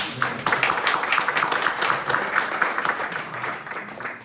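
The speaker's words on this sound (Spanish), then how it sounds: "Damos un aplauso a Carlos Oye." Gathered clergy and parish members applaud Carlos at a diocesan formation meeting, with distinct individual claps in a lively, moderately loud burst that eases slightly toward the end.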